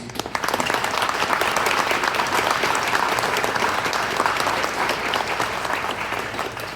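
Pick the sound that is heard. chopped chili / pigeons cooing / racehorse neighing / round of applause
round of applause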